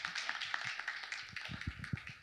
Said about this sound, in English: Big round of applause for Anand.